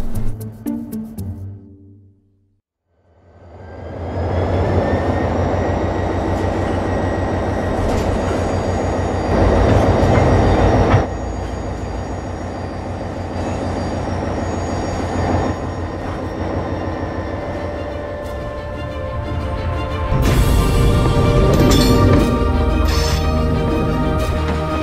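A 208-ton freight train pulls away from a standstill, its steady rumble and metallic wheel noise building after a brief quiet, with sustained tonal whine and clanking, loud and close.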